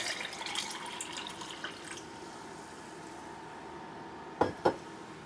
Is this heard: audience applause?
no